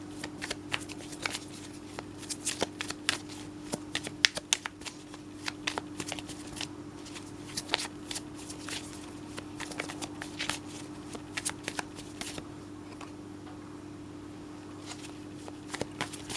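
Tarot cards being shuffled, with rapid, papery riffles and taps that repeat in bursts over a steady quiet hum, close and fairly soft, with no one talking.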